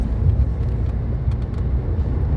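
A car cruises along a cemented road, a steady low rumble of engine and tyre noise filling the cabin, continuous and fairly loud with no voices.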